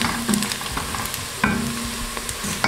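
Browning pieces for Kenyan pilau sizzle steadily in a pan, with a stirring scrape every second or so, close and moderately loud, with no voices.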